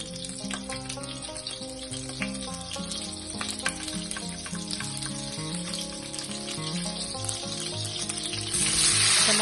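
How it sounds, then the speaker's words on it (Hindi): Oil and butter sizzle loudly in a hot kadai, a dense, steady crackle of frying that continues throughout, with clinks of utensils and a brief surge near the end. "कढ़ाई गर्म होने के बाद हम तेल ऐड करेंगे।"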